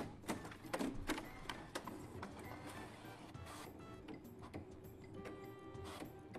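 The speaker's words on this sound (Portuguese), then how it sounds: "Ô, impressora lenta, viu, ó. Olha o barulhinho da impressão." Slow office printer printing a delivery note in the Mon Bazou video game: a faint, busy mechanical whirring and ticking of the print head and paper feed, with quiet clicks throughout and no speech.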